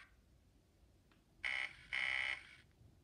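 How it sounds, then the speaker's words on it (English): Two short electronic buzzes in quick succession, the guard's double buzzer of a Graham Farish Class 108 DMU model train, clear against a quiet background. "12 is a double buzzer."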